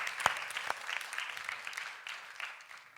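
Audience at a science talk competition claps for a speaker, moderate applause with a few sharp nearby claps standing out, thinning and fading over a few seconds.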